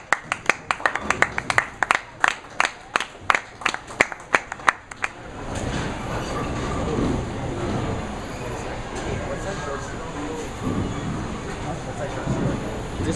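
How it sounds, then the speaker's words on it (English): Applause for a bowler returning to play after an injury at a bowling alley, sharp individual claps at first, then dense sustained crowd noise and chatter. "I say we give Travis a round of applause as he gets back on the field with the injury."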